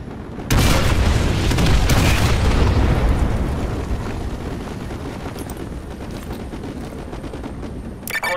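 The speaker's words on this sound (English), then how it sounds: "Artillery inbound." Heavy artillery explosions in Call of Duty Modern Warfare 2 Remastered: a loud booming blast with a long rumbling decay, close and dominant, followed by a fainter sharp burst near the end.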